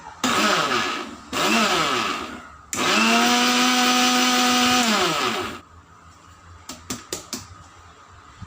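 A mixer grinder grinding sambar masala powder: three loud whirring runs, two short and one long with the motor pitch steady, then a few sharp clicks and taps as it stops.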